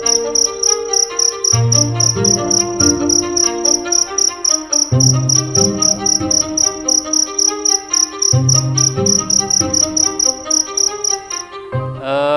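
Cricket chirping loudly and close, a rapid high pulsing trill repeating steadily throughout, with a looping musical backing underneath.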